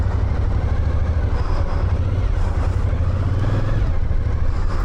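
A 22-year-old motorcycle engine runs steadily at idle for the whole stretch, with a low, continuous rumble and light mechanical clatter. It sounds close and fairly loud, and nobody talks over it.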